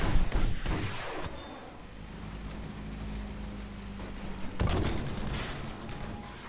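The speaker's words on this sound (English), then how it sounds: "Oh god, someone just got exploded." A video game battle explosion bursts loudly at the start, then gives way to a rumbling, crackling lull before another heavy blast with scattered gunfire around it.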